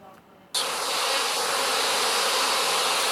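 A steady, dense buzzing of many insects swells in suddenly after a quiet start and holds loud and close to the end.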